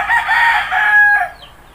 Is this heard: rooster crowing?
yes